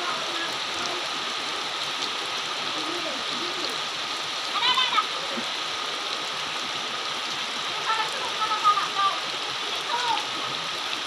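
Steady rain pours down in a dense, even hiss, with children's voices calling out faintly in the background.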